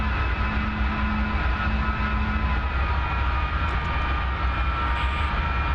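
F-4 Phantom jet engine drones steadily while taxiing in a flight game, a loud even whine with a low roar and no voices over it.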